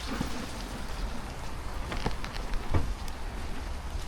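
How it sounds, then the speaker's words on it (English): Steady patter of rain falling, a soft continuous hiss with scattered droplet taps, no voices. "Yes, it is raining down."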